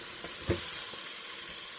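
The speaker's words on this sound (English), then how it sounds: "Now I'm going to cover them to get the sear all the way around." Stuffed mushrooms and asparagus sear on a covered grill, giving a steady soft sizzle with a brief louder crackle near the middle and no talking.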